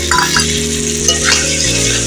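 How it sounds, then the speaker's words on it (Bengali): Spice paste of cumin and coriander powder fries in oil in a pan, a close, steady sizzle broken by a few clinks of a spoon against the metal. "পুরো মশলাটা ভাজা হয়ে গেছে দেখুন তেল ছেড়ে দিয়েছে"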